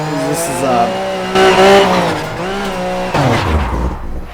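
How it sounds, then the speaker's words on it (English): A Mazda MX-5 Formula Drift competition car in Project Cars drifts with loud, sustained tire squeal over a droning, revving engine, with surges around the middle and end of the run. "this is a Formula Drift competition car"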